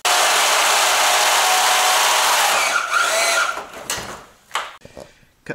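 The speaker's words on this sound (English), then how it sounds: "I've been thrilled with the performance of this bandsaw." A bandsaw with an upgraded blade cuts through salvaged steel for a solar array frame, giving a loud, steady, close grinding whine that fades as the cut finishes, followed by scattered metal clinks and handling noise.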